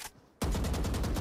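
Rapid gunfire in the tactical shooter Valorant on the Ascent map during a pro Masters Reykjavík playoff match: a brief lull, then a sudden loud burst of fast, rhythmic shots.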